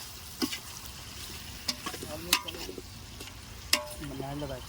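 Two kilograms of chicken hit a hot pot and get stirred, giving a low sizzle with scattered scrapes and clatters of the spoon. A voice speaks briefly partway through.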